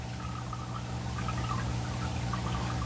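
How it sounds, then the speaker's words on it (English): Aquarium water in a shrimp tank is drawn out through a python siphon hose, a steady continuous pouring and gurgling flow, close and even throughout with no talking. "I'm gonna grab out the old python and suck out enough water to do a big water change"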